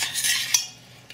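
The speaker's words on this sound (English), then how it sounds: "make sure you take a spoon and stir your sauce so it doesn't stick on the pan" A spoon scrapes and clinks against a pan while stirring mushroom sauce for an organic omelet, a short bright burst of metal-on-pan contact with a sharper clink midway and another faint tap at the end.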